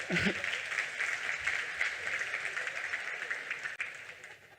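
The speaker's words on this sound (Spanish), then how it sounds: "Un aplauso para Sebastián Ramírez, que está en Punta Arenas." A medical-society audience gives steady applause, a moderate crowd clapping continuously at a slight distance, fairly even throughout with a brief dip near the end.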